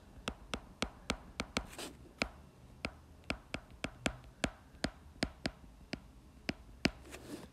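Pen or pencil strokes while writing chemistry notes on oxidising and reducing agents, a quiet run of sharp ticks and taps in an irregular rhythm, close and alone with no talk.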